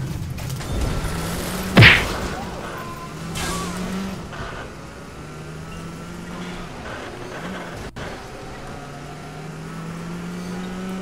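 In the Watch Dogs video game, a car engine roars during a chase, then a sharp thwack lands as the car rams another vehicle, with the engine droning on afterward.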